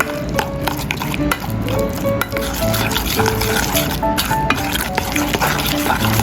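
Steady wet squelching and scraping as seasoned meat paste with oyster sauce, salt and pepper is mixed in a bowl, continuous and close, over a faint tonal background.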